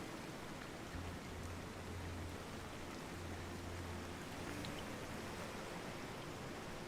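Rain patters steadily on the glass dome panes of a wooden ship's library, a soft, even hiss with no break, faint and low.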